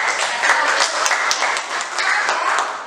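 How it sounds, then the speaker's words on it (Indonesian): A classroom group of students claps for a student group, a steady, fairly loud patter of many hands that lasts the whole stretch without talk over it. "Kita beri tepuk tangan untuk kelompok"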